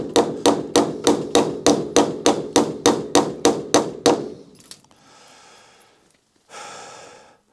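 About a dozen sharp, evenly spaced hammer strikes drive fence staples into wooden posts, ringing close and loud, then stop for a few seconds of breathy rustling.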